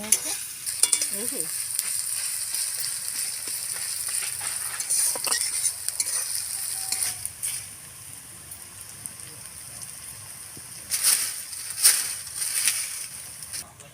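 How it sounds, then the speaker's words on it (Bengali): Onions with bay leaf, whole garam masala and asafoetida frying in hot oil for chicken curry, a steady crackling sizzle with occasional stirring scrapes, close and continuous throughout. "পেঁয়াজ দিয়ে দিয়েছে পেঁয়াজ দিলাম"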